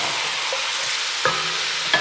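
Vanilla poured into hot browned butter sizzles with a steady broadband hiss, punctuated by two brief sharper spatters near the end, with no talking.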